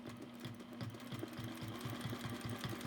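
Sewing machine running steadily while free-motion quilting around an oval ruler, with a fast, even needle rhythm that sounds close and moderately quiet, with no voices.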